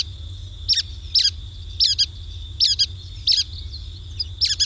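A bird gives repeated short, squeaky calls in paired bursts at a steady rhythm, clear and fairly close over a low background hum.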